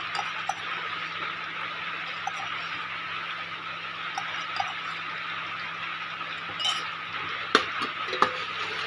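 Khichdi cooking in a pot with raw green chilli, ginger and garlic is stirred steadily, a soft continuous sizzle with a few sharp clinks of the spoon against the pot near the end.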